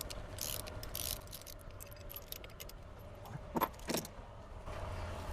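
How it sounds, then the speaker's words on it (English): Metallic clinks and ratcheting from a wrench removing factory bolts under a lifted Ford E450 V8 chassis, with a couple of sharper bursts near the end over steady low shop hum. "Removing the OEM bolts."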